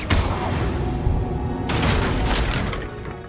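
A fire spell cast in the Hogwarts Legacy game produces a dense, crackling burst of magical flame with booming, rumbling blasts, sustained and loud for the whole moment with no pause.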